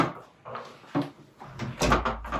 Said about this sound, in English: when I close the door